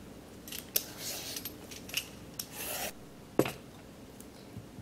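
Green papaya being shredded on a grater for Thai papaya salad, a run of dry rasping scrapes in irregular bursts, close and fairly loud, with no talking over it.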